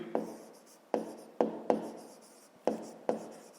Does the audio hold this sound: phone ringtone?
no